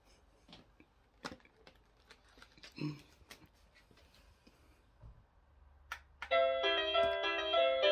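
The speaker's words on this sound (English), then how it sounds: "Ring my doorbell." Scattered small clicks and taps, then a loud electronic doorbell chime plays a melodic ding-dong tune near the end.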